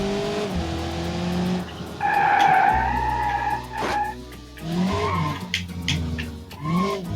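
A car in a modded driving video game revs and skids, tires squealing in long loud bursts with engine roar rising and falling, close and without talk.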